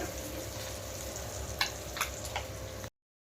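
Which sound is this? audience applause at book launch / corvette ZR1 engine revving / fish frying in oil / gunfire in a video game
fish frying in oil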